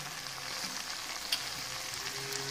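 Cumin seeds sizzle in hot oil during preparation of spicy Yippee noodles, a steady close frying hiss with faint stirring, no voices.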